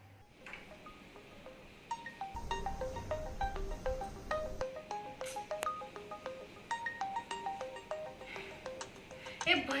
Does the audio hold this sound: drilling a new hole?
no